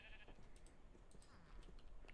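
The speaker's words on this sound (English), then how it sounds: "I think that's just sheep noises" Sheep bleat in the video game Minecraft, brief wavering cries over a steady background hum. The sound is faint and distant, with no talking.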